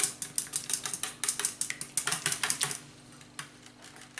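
A whisk beats plain yogurt in a bowl for a dish of spiced chicken, a fast run of close, even metallic taps for about three seconds that slows to a few scattered strokes at the end.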